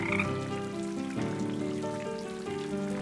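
A cartoon frog croaks in a short run of throaty, pulsing calls, close and clear, with no talking over it.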